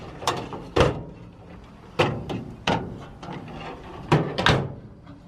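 Drawers of a 1982 Craftsman toolbox slide open and shut in a series of close metallic rolls and clacks, with six or so distinct strokes spaced unevenly, no talking.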